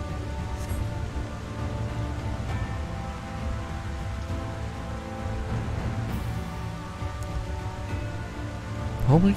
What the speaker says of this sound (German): Warum regnet das eigentlich schon wieder?